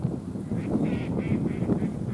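Ducks quack repeatedly by a river in the woods, a series of nasal calls at moderate distance over a low background rumble, with no talking.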